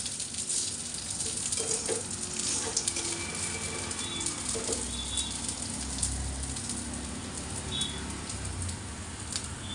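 Rice and moong dal roasting in ghee over a medium gas flame, stirred continuously, giving a steady close sizzle and crackle with soft scraping of the spoon through the grains.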